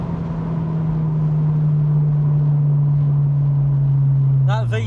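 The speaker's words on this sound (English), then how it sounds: "That VTEC engagement sound, can't beat that." A 2000 Honda S2000 AP1 engine holds a loud, steady drone that swells slightly as it runs on, then drops away near the end, where brief voices break in.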